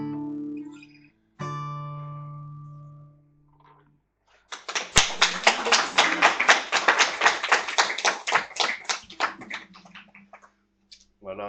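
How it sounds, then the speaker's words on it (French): A church congregation bursts into sustained applause after a sung hymn, many hands clapping together at close range for several seconds before fading out. "C'est le Seigneur qu'on a applaudi, hein, pas nous."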